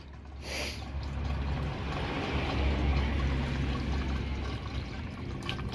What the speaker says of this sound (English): come on, stop splashing